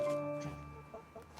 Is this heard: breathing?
no